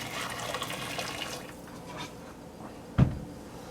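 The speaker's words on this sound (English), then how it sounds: "Grab your bowl of hot ass broth and pour on in." Hot broth pours from a bowl into a cooking pot during a chicken meal prep. A steady, moderate liquid splashing fades slightly, and a brief knock near the end suggests the pot or bowl being handled.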